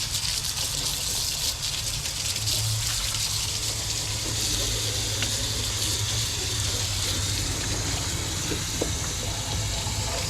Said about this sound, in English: I'm gonna wash all this grit off.